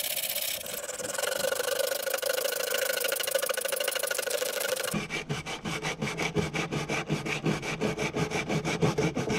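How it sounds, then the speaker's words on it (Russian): Coarse 60-grit sandpaper worked by hand over the rusted body of an old car under repair, a steady abrasive rasp that turns into rapid, rhythmic back-and-forth strokes halfway through, close and continuous with no talk. "Возьмем, пожалуй, мы с вами вот такую вот грубую 60-ю наждачку."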